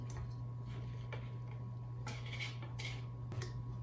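Dog treat dough mixed with spinach, carrots and zucchini in a bowl, soft clinks and scrapes of a utensil against the bowl in irregular bursts, close and quiet over a steady low hum.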